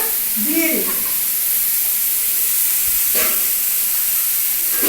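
Water is poured into a hot pan of Bengali fish curry with vegetables and gives a loud, steady sizzling hiss that fills the whole stretch, with a brief clatter near the start.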